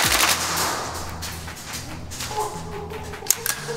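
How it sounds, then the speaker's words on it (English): A VFC Colt M733 airsoft rifle fires a fast burst of rapid shots, a dense clatter of closely spaced pops running through the whole span, loud and near, with a few sharper cracks toward the end. "One, two, three, 11, 12, 13 shots in a second."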